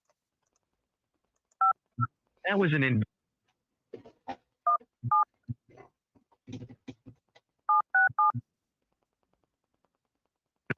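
Telephone keypad tones from someone entering a PIN on an automated phone line, several short paired beeps in quick clusters with brief pauses, mixed with speech from a voice recording and callers talking.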